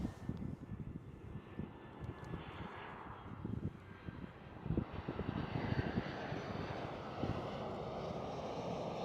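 A jet airliner rumbles at Schiphol airport in Amsterdam, a faint, distant broadband roar that slowly swells and brightens over several seconds, with light wind buffeting on the microphone.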